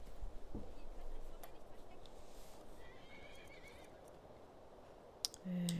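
A horse whinnies faintly in the video game The Elder Scrolls V: Skyrim amid a low, noisy background, with a brief sharp click and a low hum near the end.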